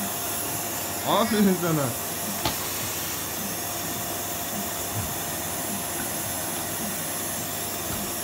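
A real electric vacuum cleaner run by a young girl cleaning the floors at home gives a steady, broad whooshing drone throughout, with a short voiced phrase and a brief knock over it.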